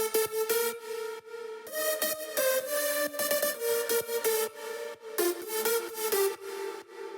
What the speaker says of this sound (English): So altogether, the leads sound like this.